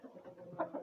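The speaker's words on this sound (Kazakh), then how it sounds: "Әтеш тауықтар қуып жүр." Young farmyard hens being chased by a rooster, giving a brief run of soft, close clucking and low murmuring calls.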